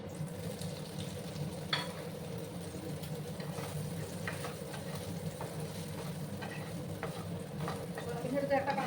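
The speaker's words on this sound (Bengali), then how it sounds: "এবার আমি ওই তেলের মধ্যে সয়াবিনগুলো ভাজবো।" Soya chunks for a vegetarian soyabean curry fry in hot oil with a steady, dense sizzle that runs the whole time, with a few faint utensil clicks and a swell near the end.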